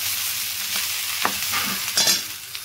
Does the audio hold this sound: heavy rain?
no